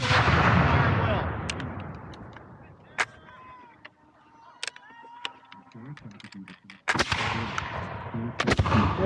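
Revolutionary War reenactors fire muskets in a ragged volley at an outdoor reenactment, with loud, sharp cracks scattered over several seconds and booming echoes trailing off between the shots.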